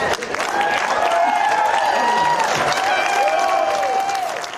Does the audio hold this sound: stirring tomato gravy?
no